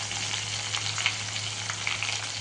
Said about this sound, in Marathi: कारण मिरच्या आणि कढीपत्ता पूर्णपणे तळायला हवा आहे